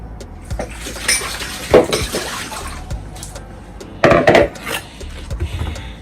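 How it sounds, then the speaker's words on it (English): A knife cuts the core out of a cabbage with a few sharp chopping knocks and scraping crunches, and small clatters of kitchen utensils sound in between. "I don't like the core here, so I normally cut it off"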